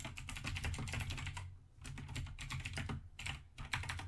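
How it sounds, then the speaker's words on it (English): Rapid typing on a computer keyboard during a Minecraft Factions game session, bursts of close, clattering keystrokes broken by brief pauses, with no one speaking. "I don't know what I'm typing anymore"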